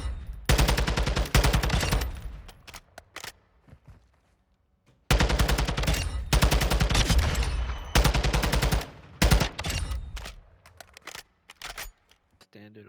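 Automatic weapon fire in Modern Warfare 2 rattles out in several long, loud bursts separated by brief silences, with short clicks and tails trailing off between volleys.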